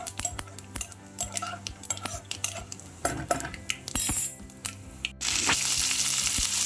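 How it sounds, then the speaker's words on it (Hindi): Mustard seeds and curry leaves fry in a pan for poha. Loud crackling pops and spattering are heard up close alongside clinks of a utensil against the pan, with a sharper sizzle rising toward the end. "कड़ी पत्ता डालने के बाद इसको और थोड़ी देर भूनेंगे।"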